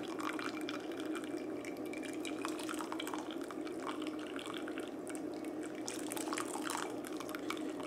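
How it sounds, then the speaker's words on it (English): Veal stock strained through a fine mesh strainer, a steady close trickle and patter of liquid with scattered drips, continuous and moderately quiet throughout. "you want to use a fine mesh strainer here, it's very important, so you keep all those little impurity of the stock"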